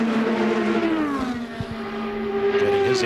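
IndyCar race cars roar past at Indianapolis during Carburetion Day practice, a loud sustained engine note with a falling Doppler pitch as a long group of cars streams by close to the track.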